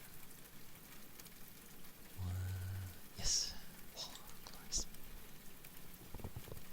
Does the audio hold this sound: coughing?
no